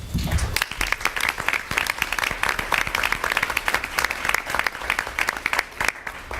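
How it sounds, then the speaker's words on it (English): Audience applause at a school board meeting, dense steady clapping from a large crowd that sustains for several seconds at moderate loudness, with no voices standing out. "Please give another round of applause to our bellboys."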